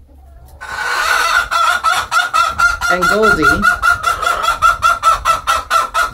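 Hens cluck and squawk inside a chicken coop, a steady rhythmic chorus of close, loud calls, with a person speaking briefly amid the birds.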